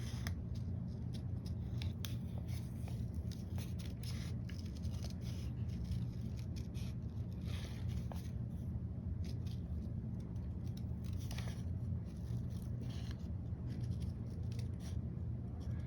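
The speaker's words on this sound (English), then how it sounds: "I'm kind of keeping my right hand with the scissors straight, and I'm moving the fabric." Quiet, repeated snipping of scissors cutting through fabric over a low background hum, the cuts soft and irregularly spaced.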